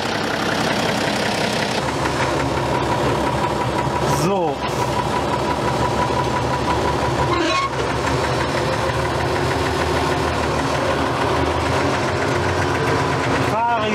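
A Deutz 5006 three-cylinder tractor runs a mulcher, its diesel engine giving a loud, steady, close knocking drone with a brief change in pitch partway through; a voice speaks a single word.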